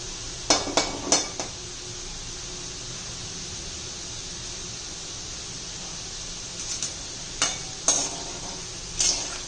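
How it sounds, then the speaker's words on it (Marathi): Sweet sev dough frying in hot oil over medium heat: a steady soft sizzle beneath intermittent sharp metallic taps and scrapes of a utensil against the pan, in scattered clusters. "सगळं असं हे तळून घ्यायचं आहे थोडे थोडे करून मी तळून घेणार आहे"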